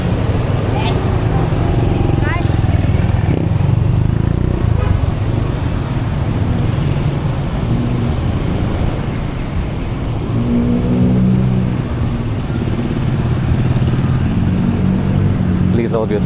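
Road traffic in Angeles City with motorcycles and cars, a dense continuous rumble of engines passing close by, with occasional horn-like tones and a voice talking over it.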